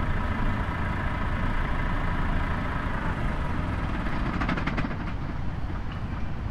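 Diesel engine of a Renault truck idling in Euro Truck Simulator 2, a steady, loud low rumble with dense broadband noise throughout and a brief rhythmic flutter near the end.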